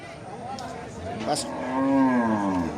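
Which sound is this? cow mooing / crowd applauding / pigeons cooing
cow mooing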